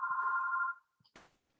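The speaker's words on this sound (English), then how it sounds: "Sorry about the phone." A telephone rings once during a recorded interview, a steady electronic tone lasting under a second, followed by a brief clunk as it is handled, with no talk during the clip.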